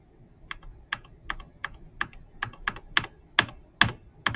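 Computer keyboard keys being struck one at a time in a fairly even rhythm, about a dozen crisp close clicks at roughly half-second intervals with no talking.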